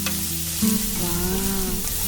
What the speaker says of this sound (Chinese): 保持着中火来炒五花肉，把五花肉里面的油脂炒一炒出来。